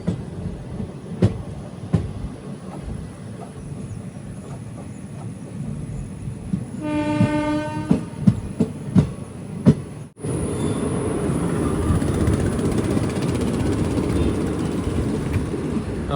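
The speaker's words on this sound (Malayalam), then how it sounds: "ട്രെയിൻ ഇപ്പോൾ കണ്ണൂരെത്തി." Malabar Express sleeper train pulling into Kannur after Thalassery, steady rolling rumble with a rising whistle-like tone and sharp knocks midway, then a louder, brighter rush of wheel and rain noise to the end.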